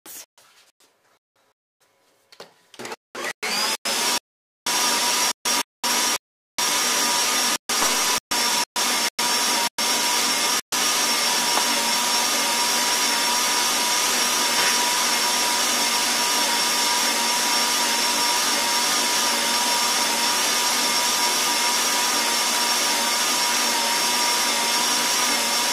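Stand mixer kneading bread dough, a steady loud motor whir starting in stuttering bursts and then running continuously and evenly up close.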